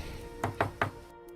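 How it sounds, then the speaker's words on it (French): Three quick knocks on a door in an even rhythm, close and fairly sharp over a low hum, followed by a near-silent pause. "Quelqu'un vient de frapper à votre porte."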